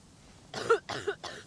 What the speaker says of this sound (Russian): Да заебал ты кашлять.